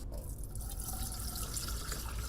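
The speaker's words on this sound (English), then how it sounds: "Imagine water flowing freely out of your sink," Water runs freely from a sink tap, a steady splashing hiss with faint dripping, close and continuous.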